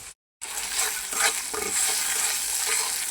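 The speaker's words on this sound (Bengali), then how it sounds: "এখানে আমি মশলাটা কষায় নিতেছি" Spice paste being stir-fried in a pan for a curry, a steady close sizzle with scraping stirs throughout after a brief silent gap at the start.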